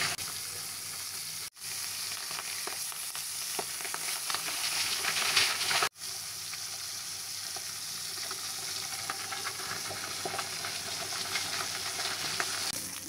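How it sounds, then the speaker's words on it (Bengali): Fish pieces frying lightly in hot oil in a wok give a steady, close sizzle that runs throughout, broken by two very brief cuts to silence. "মাছগুলোকে কড়া করে ভাজবো না, মানে হালকা করে একটু ভাজবো"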